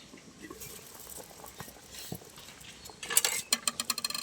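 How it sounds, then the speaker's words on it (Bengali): A lid lifts off a pot of raw mangoes boiled for about five minutes, giving a few light metallic clinks and rattles near the end, after a stretch of quiet low simmering. "এবার ঢাকনাটা খুলে দেবো।"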